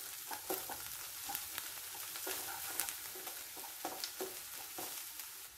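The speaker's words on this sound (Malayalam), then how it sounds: "ഇളക്കി യോജിപ്പിക്കാം" Chicken pepper roast with a little garam masala stirred in a pan, a steady sizzle of frying broken by repeated scraping stir strokes, close and moderately quiet, with no talking.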